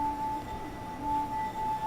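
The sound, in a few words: wine glass ringing from friction on it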